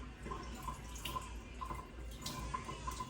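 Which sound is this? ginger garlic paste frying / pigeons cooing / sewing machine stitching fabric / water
water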